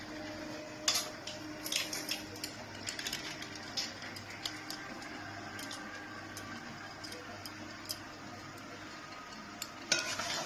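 Chicken curry being stirred in a pan with green chillies and garam masala, soft sizzling under repeated scraping and clinking of a spoon against the metal pan, fairly quiet and close.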